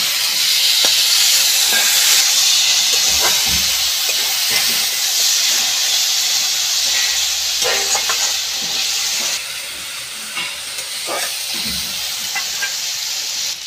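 Potato pieces and chopped tomatoes fry together in a pan, a constant loud hiss and sizzle with occasional stirring scrapes and clinks, fading slightly toward the end.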